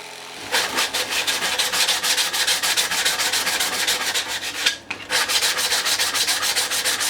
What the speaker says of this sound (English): So, let's sand it, cut in some detail and see how we get on.